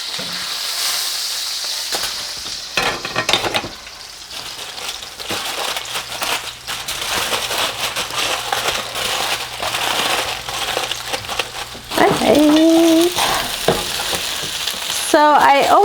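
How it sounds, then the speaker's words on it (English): Handmade sun-dried tomato gnocchi fry in a pan with a steady, close sizzle and occasional stirring scrapes, a voice briefly heard underneath, while a few short sharp tones cut in near the end. "My gnocchi is toasting up nicely"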